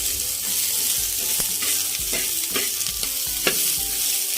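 Chichurdi wild greens, stems left on, sizzle steadily in a hot pan as they are sautéed, with scattered crackles and the scrape of stirring over a continuous frying hiss.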